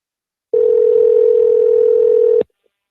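A telephone call rings out on the line before reaching voicemail: one long, steady ringback tone lasting about two seconds, loud and clear, with silence before and after.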